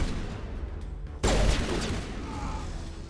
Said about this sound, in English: Guess I could use my sniper in here.